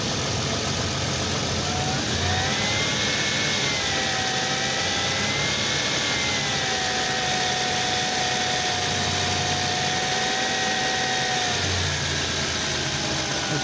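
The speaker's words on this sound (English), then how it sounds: "Let's try revving it up and see how it works." A Ford Explorer engine revs up and holds at a higher whine, rising and settling twice, loud and close, with no voices.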